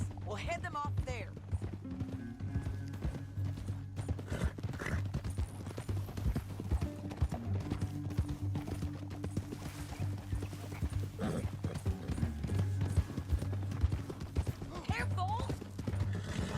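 Horse hooves clip-clop steadily through the whole stretch in Red Dead Redemption 2, a game set in a canyon, with the animal occasionally whinnying over a low music bed and voices talking.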